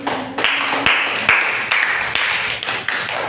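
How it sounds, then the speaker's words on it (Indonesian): A class claps hands during a micro teaching lesson. The claps come in a few distinct rhythmic bursts that land together, moderately loud and close, with no talking. "Oke, beri tepuk tangan."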